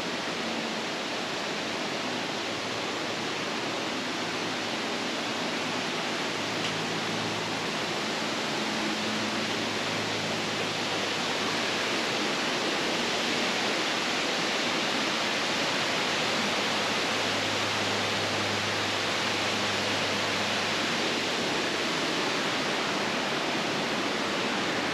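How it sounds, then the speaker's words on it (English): Hemlock Falls in Cloudland Canyon, Georgia, roars as a loud, steady, broadband rush of falling water, close and unbroken throughout with no voices. "so we made it all the way to Hemlock Falls."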